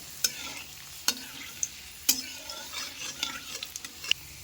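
Mutton pieces sizzle steadily in a pan with fried garlic, a soft continuous frying hiss broken by several sharp scrapes and clicks of a spoon stirring the meat, close by with no talking.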